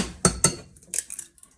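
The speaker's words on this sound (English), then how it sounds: "Crack our eggs." Eggs cracked against a hard rim for smoked meatballs: two sharp, close clicks in quick succession, then a few softer taps and shell crackles, with no talking.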